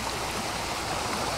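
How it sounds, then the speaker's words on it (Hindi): Water gushes and hisses continuously from a burst large water pipe at a construction site in Arafat, a dense, loud, close broadband rush with no voices over it. "ये काफ़ी गहरा है, पानी का बड़ा पाइप फटा है।"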